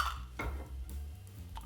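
Sugar goes into a container for simple syrup with clinking of dishes and utensils, a few sharp taps and scrapes, close and moderately loud over a low rumble.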